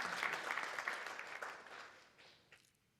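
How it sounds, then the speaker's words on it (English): An audience at the launch of a national disability policy gives a round of applause, the faint clapping starting full and gradually thinning and fading away over about three seconds. "I think this one deserves a round of applause."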